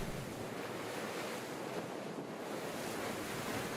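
Fast tidal currents and wind wash past at Whirlpool Reach on the Tamar River estuary in Tasmania, recorded from a cruise boat as a constant, fairly quiet rushing hiss with steady wind noise on the microphone.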